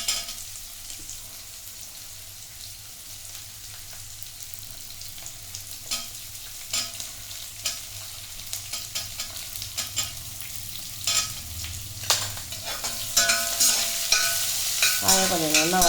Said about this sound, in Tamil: போட்டு நல்லா கொஞ்சம் வதக்கிக்கணும்.